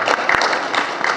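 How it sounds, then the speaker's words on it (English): An audience at a university law visit gives a short round of applause, a dense patter of many hands clapping fairly close by. "give him a round of applause for coming out today"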